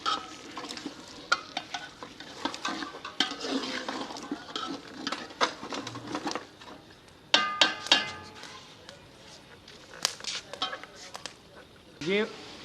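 Fried meat is stirred into a cooking pot for a jungle-style pulao, with scraping stirs, light sizzling and clinks against the pot while someone talks over it.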